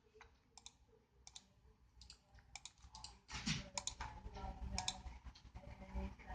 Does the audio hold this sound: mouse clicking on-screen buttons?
yes